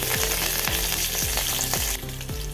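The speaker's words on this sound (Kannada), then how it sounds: "ಸ್ವಲ್ಪ ಕರಿಬೇವು ಸೊಪ್ಪು ಹಾಕೋತಾ ಇದ್ದೀನಿ" Steady loud sizzle of leaves frying in hot oil, with repeated scraping stirs every half second or so; no voices.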